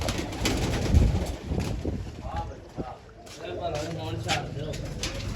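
Pigeons coo in a low, throaty burble at close range while people talk over and between the calls, with some background rumble and occasional wing or handling noise.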